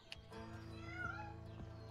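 A cat meows in the video game A Way Out, a single drawn-out mew rising and falling over a low steady game hum.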